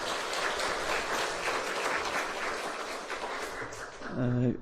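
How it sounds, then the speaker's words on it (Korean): Applause of encouragement from a church congregation at a university chapel service, steady and moderately close, then a brief tonal hum or voice rises near the end. "우리 함께 격려의 박수 하겠습니다."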